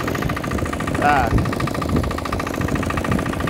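A tractor engine runs steadily while mowing hay in a field, a continuous mid-pitched drone with a brief rise in the middle; someone speaks a single short word over it.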